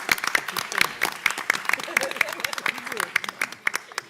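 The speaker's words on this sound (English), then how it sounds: "let's give them a round of applause" A school board meeting audience claps for a children's presentation, with sharp individual claps scattered over the crowd and a voice talking over them.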